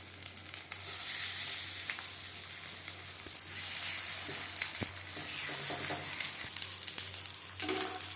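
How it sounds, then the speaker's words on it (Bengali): Fish fries in a few spoonfuls of hot refined oil for a fish fry. A soft, continuous sizzle and crackle carries throughout, with occasional light clinks and scrapes. "এবার দিয়ে দেব মাছ।"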